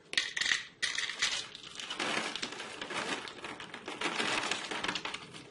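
Roasted, salted nuts pour and rattle into a measuring cup in two quick bursts, then a steadier dense clatter of nuts shifting and settling, close and fairly loud with no talking.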